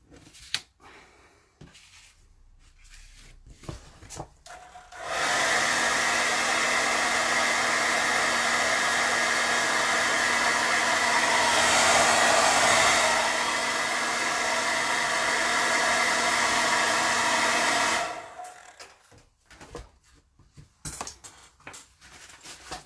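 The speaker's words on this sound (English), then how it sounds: "you might like to dry it a bit with a hairdryer" A hair dryer blows in a steady, loud, close whoosh for about thirteen seconds to dry paint on an artwork, with quieter handling noises before and after.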